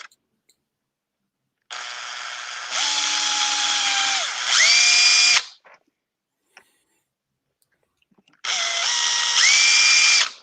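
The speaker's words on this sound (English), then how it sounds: "I'm going to finish drill it with my 3/16 drill." A power drill with a 3/16 bit boring through a part for a 1/6-scale Nieuport 17 model aircraft, two bursts of steady high whine, the first several seconds long and rising in pitch as the motor spins up, then a shorter second run after a pause.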